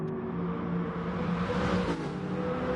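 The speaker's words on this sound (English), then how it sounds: "Soothes the soul, the rumble of that Vantage V8." Aston Martin Vantage V8 in a racing video game gives a steady, low, droning engine rumble at a constant pitch, heard alone and fairly close, with a slight swell near the end.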